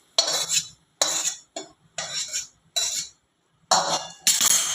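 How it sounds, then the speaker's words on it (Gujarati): A spoon stirs puffed rice in a bowl to mix in an oil tempering with curry leaves and turmeric, making short repeated bursts of rustling and scraping with small clinks, separated by brief pauses. "અને મમરાને બરાબર હલાવી દઈશું, મિક્સ કરી દઈશું"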